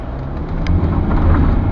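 A 2005 Mercedes E220 pulls away hard on damp, wet roads, its engine drone building steadily in loudness as it accelerates, with tyre and road noise underneath and no voices.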